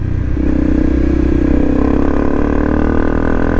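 A Honda CRF250 Rally motorcycle engine runs close by with a steady, loud idle-to-low-rev drone and a faint rattly clatter, no talk.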